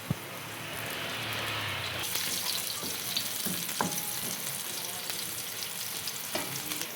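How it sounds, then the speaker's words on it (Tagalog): Onion or garlic sautéing in a pan for chicken sisig, a steady loud sizzle and crackle with a few stirring scrapes and clinks, no talking. "Magigisa na ako ng sibuyas o bawang."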